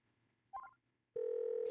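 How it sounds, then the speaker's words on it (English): A phone number being dialed in the Murder by Numbers video game: a brief chirp of keypad tones, a short pause, then a sustained loud dial tone. "Alex Costa's phone number."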